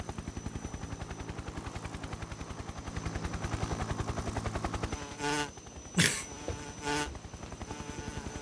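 Insects buzzing in the Metal Gear Solid 3 Snake Eater video game, a steady pulsing drone through most of the scene, broken near the end by a few sharp bursts.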